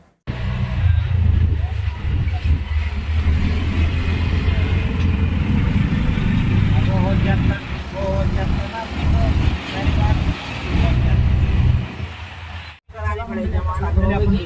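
Traffic noise with engines idling and revving in Kandivali, Mumbai, as an auto rickshaw sets off, a steady loud engine rumble filling the clip with a brief drop near the end, while people talk over it.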